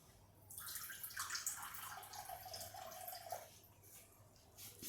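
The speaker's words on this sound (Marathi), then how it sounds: "मी आता माठातलं पाणी घेते" Water poured from an earthen clay pot (matka) in a home kitchen while preparing panipuri masala water; a steady splashing pour runs for about three seconds, close and fairly clear, then tapers off, with no talking.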